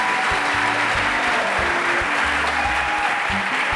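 Sustained applause from a university audience at a student innovation challenge, a continuous wash of clapping with faint tonal sounds underneath.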